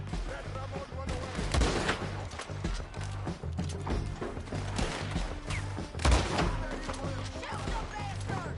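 Continuous gunfire in a Red Dead Redemption 2 firefight, shots cracking repeatedly over a busy background with music, some louder close bursts and faint voices underneath.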